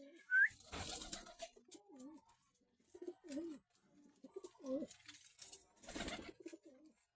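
Pigeons in a breeder loft coo softly in several separate phrases, with a few louder flutters or rustles between the calls and a faint whistle near the start.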